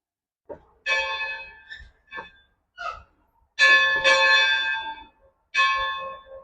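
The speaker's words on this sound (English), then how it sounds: "They said I could ring the bell." An old coal-hauling train's bell is rung by hand in a few separate bursts, bright metallic clangs with long ringing overtones, some strikes short and others sustained and overlapping, close by with no talking.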